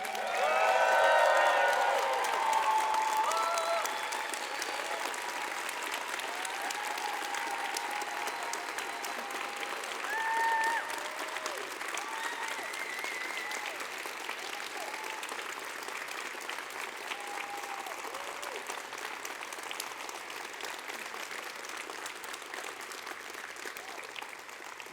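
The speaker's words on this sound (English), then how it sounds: "Can we get a round of applause for Elaine?" A conference audience at closing remarks breaks into steady, sustained applause that fills the room. It swells briefly at the start and again partway through, with a few faint voices mixed in before the clapping tapers.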